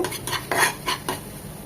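Spicy masala chicken stir-fried in a pan over low to medium heat, with a few scraping stirs and light clinks of a utensil against the pan over a soft sizzle, close and alone.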